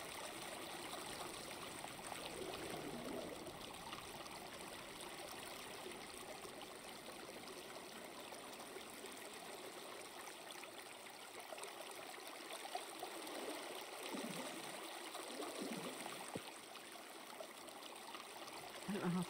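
Steady, faint flowing water from the Creativerse building game runs evenly as a continuous wash throughout, with a few soft low bumps toward the end.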